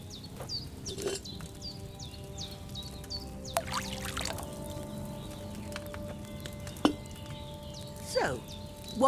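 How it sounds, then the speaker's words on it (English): Wine pouring into a cauldron in the video game Kingdom Come: Deliverance II, a soft liquid trickle set against background birdsong, chirps and occasional hoof clops. "So, what did you pour in there? Wine, of course."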